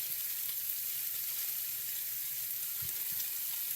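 Food browning in a cast iron pan, seasoned with black pepper and onion powder, gives a steady, moderate sizzle and crackle throughout, with no talking.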